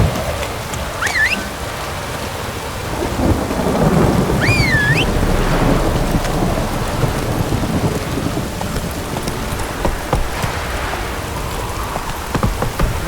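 Steady rain pours down in The Witcher 3 while rolling thunder rumbles through a game storm, with a few brief shrill whistling tones cutting in near the start.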